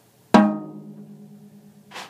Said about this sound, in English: So if you hit the snare with it down, it sounds like this.